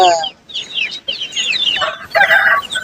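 Several chickens, some sold for meat, cluck and squawk in a busy overlapping chorus at a Tamil Nadu weekly market, loud and close, with a brief lull before the calls pick up again.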